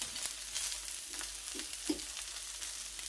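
Salmon fillet frying in a pan, a steady faint sizzle with a few soft stirring or shifting bumps, no voices.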